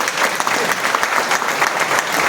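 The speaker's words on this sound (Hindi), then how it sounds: "ताली बजाओ" Audience at a Vestige business meeting clapping on cue, loud and close, a dense, lively burst of many hands with quick uneven claps throughout.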